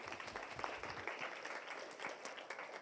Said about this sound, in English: So how about a big round of applause one more time?